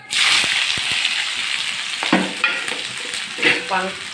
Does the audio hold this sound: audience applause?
no